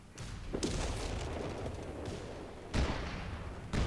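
Gunfire in the strategy game Company of Heroes 3, Italy invasion campaign: steady sustained rattling fire with a few heavier booms breaking through, dense and loud throughout.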